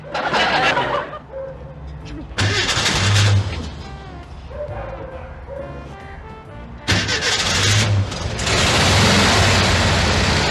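An old car engine cranks and catches, with repeated loud starter bursts and sputtering turnover separated by quieter gaps, ending in a sustained running roar; voices are faintly present.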